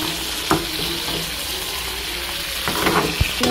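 Masala spices fry in a pan, giving a steady sizzle that runs throughout, with a few clinks and stirring knocks along the way.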